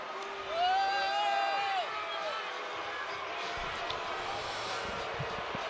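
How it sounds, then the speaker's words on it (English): Boxing arena crowd after the Devin Haney vs Vasiliy Lomachenko title fight, a steady, dense roar of cheering and applause that swells briefly early on, with a commentator talking over it. "Vasiliy Lomachenko takes the crowd's applause tonight."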